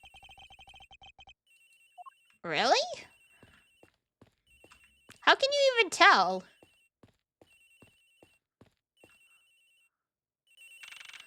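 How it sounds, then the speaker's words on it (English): A ringing telephone in the Ace Attorney Investigations video game, heard as a steady repeating electronic ring under two short bursts of game voice sounds and some speech. "Sounds like the phone is up in the flight attendant's room."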